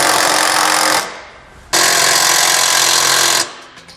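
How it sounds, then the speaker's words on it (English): Impact wrench or power tool driving trailer hitch bolts with an 18mm socket on a 2019 Honda Fit during a Curt receiver install; two loud, sustained bursts of buzzing tool noise, about a second and nearly two seconds long, separated by a brief pause. "We can now go back and tighten down our hardware. We're going to use an 18mm socket for our outside bolts."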